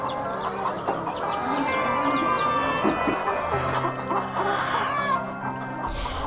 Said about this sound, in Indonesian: Usaha peternakan lain yang dikembangkan pesantren ini, yakni ayam petelur.